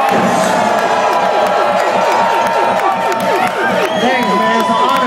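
A dense live crowd at a hip-hop concert in Vancouver's Commodore Ballroom cheers, shouts and claps loudly and continuously, filling the hall with steady roaring noise.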